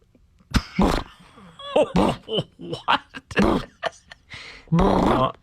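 A person mimics an agitated dog with a string of choppy huffs, whines and guttural barks, some sputtering like a stalled engine.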